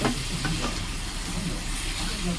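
Cleaned mandeli fish stirred in a hot pan, with a steady sizzle of frying and soft scraping strokes running continuously for a couple of seconds.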